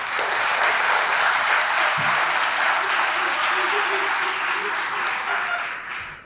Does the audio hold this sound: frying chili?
no